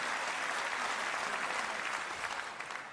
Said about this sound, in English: The applause will have to die down first, though, and you can't blame them.